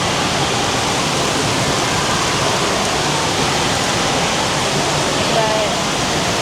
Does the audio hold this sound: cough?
no